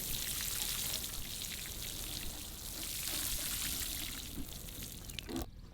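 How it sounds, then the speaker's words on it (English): Water poured from above onto a young pepper plant set in garden soil, a continuous splashing trickle that stays fairly steady before cutting off abruptly near the end. "I'm gonna water the plant a little bit, give it a good jump start"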